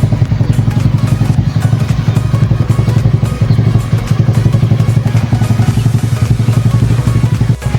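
A matte-finished motorcycle with an open muffler exhaust idles and revs nearby, a loud, steady, throbbing rumble with crackling pops running unbroken throughout.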